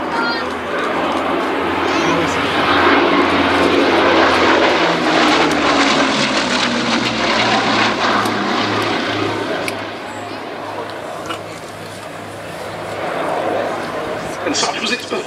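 Bristol Blenheim flying on Mercury radial engines at an Old Warden air display, a loud sustained propeller drone that swells and fades as it passes, with a commentator talking over it.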